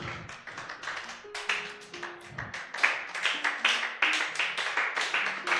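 Church congregation clapping rhythmically together in praise to acclaim the Lord during a worship service, a steady repeated beat of many hands close by with musical tones underneath.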